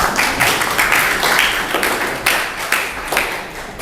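Clapping from a classroom audience after a group presentation, a loose, uneven patter of hands with a few sharper slaps, fairly close and steady throughout with no talk over it.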